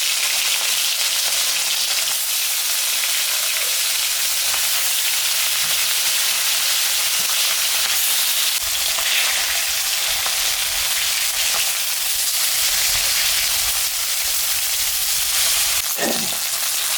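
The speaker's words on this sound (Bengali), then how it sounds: "মাছ ধোয়া কাটা বাছা হয়ে গেছে, এখন ভাজি।" Pieces of rohu fish sizzling steadily in hot oil in a home kitchen, a loud continuous crackle with occasional sharper pops and a stir near the end.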